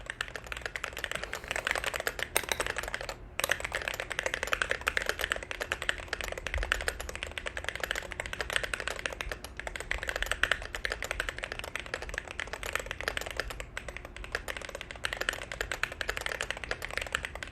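Steady computer keyboard typing runs throughout, a dense rapid clatter of keystrokes with brief pauses, close and moderately loud with no speech.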